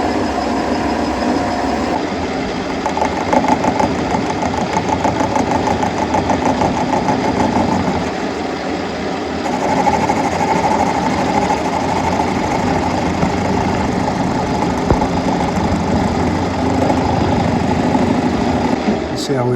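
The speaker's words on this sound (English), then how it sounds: "once the center drills into it a bit, it'll actually be offering support to the workpiece." A lathe runs steadily as a center drill bores into a metal workpiece while making a new drive dog, giving a continuous mechanical hum and whir with faint intermittent rattling, with a voice speaking over it.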